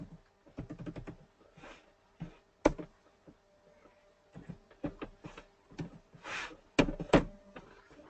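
Notes are typed on a computer keyboard in clustered bursts of crisp, close keystrokes, with a few sharper, louder key hits and brief quiet gaps between runs.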